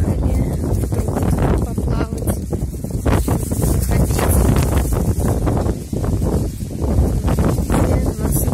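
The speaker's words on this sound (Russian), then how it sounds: "У нас сегодня ветрено как-то." Steady, heavy wind buffeting the microphone outdoors, a continuous low roar with gusty swells throughout.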